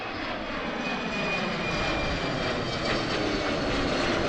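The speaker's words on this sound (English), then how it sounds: "As we watch this Embraer doing a very early takeoff." An Embraer jet airliner takes off at Amsterdam airport, its engines giving a loud, steady roaring rush that holds evenly throughout at close range with no voices.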